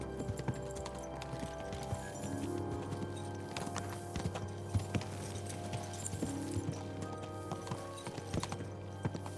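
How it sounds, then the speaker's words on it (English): Horse hooves clip-clop in Kingdom Come: Deliverance II, a steady trotting rhythm at moderate distance over a low ambient hum, with no talking. "That was a horse"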